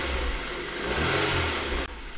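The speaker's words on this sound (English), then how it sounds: "The engine's running perfectly, there's no issues, as I said, even when revving it up." A car engine runs steadily and smoothly at close range after a spark plug replacement, a smooth mid-pitched hum with a slight rise in revs before it cuts off near the end.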